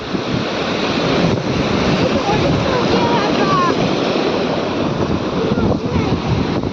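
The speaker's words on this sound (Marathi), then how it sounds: "मोठी लाट आली बघ" Ocean surf roars continuously, waves breaking and washing in a loud, broad rush with wind buffeting the microphone.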